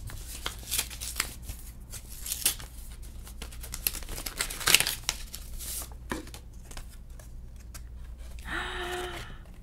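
A paper envelope from Neiman Marcus is handled and opened up close, with soft rustling, crinkling and tearing in a quiet room.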